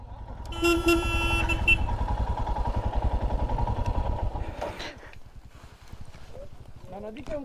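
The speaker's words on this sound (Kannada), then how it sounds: "ಗಾಡಿ ಹೋಗುತ್ತೆ" A vehicle passes close by on a road, opening with a sustained honk of its horn followed by a throbbing engine that fades as it goes, with faint voices in the background.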